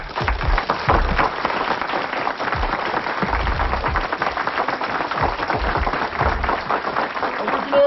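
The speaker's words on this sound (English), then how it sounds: "we want to receive with a rousing round of applause" A rousing round of applause from a large audience, honoring Captain Gregory Truett of Muhammad's Mosque number 12 in Philadelphia, rolls on steadily and densely throughout, with voices mixed into the clapping.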